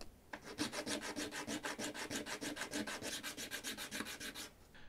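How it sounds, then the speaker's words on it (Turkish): Steady rhythmic scraping of sandpaper against a copper-plated zinc coin, about five strokes a second, close and continuous with no talking. "Tüm yüzey çinko olana dek zımparalamayı sürdüreceğiz."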